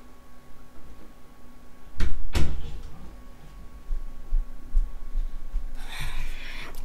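Door opened to let a cat out, with two sharp close knocks and thuds from the handle and frame, followed by faint shuffling and a soft hiss.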